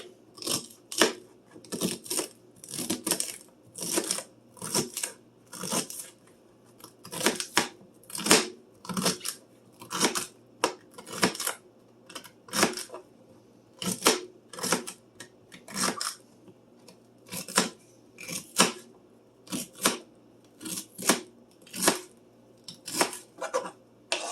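A knife chops celery stalks into half-inch pieces on a cutting board for crockpot ribs. The cuts fall in a steady, close rhythm of sharp taps that carries on for over twenty seconds.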